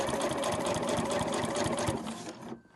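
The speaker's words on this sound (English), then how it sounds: "I'm just sewing right on the edge there." A sewing machine runs steadily and close while stitching binding along the edge of a fabric overlocker cover, a continuous buzzing whir that stops near the end.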